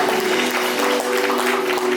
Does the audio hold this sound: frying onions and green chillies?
no